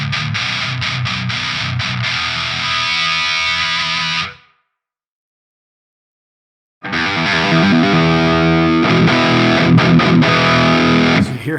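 A Schecter Banshee guitar played through a Master Effects Marauder distortion pedal chugs loud, thick, heavily distorted riffs, cutting to silence for a couple of seconds before the riffing resumes with choppy palm-muted rhythms.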